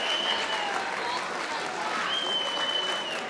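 An audience applauds guests at a Mitchell High School assembly, a dense continuous wash of clapping at moderate distance, fairly soft, with crowd murmur underneath.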